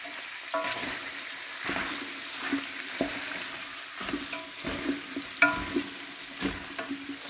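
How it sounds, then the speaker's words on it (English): Onion and garlic fry with a little curry in a pan, giving a steady close sizzle broken by repeated scraping stirs at an irregular pace. "Let's fry our onion and garlic a little bit."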